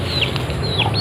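Backyard farm chickens clucking and calling nearby, several short bird calls over a steady murmur of the flock with no talking.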